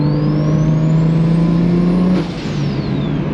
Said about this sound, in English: this car is so fun to drive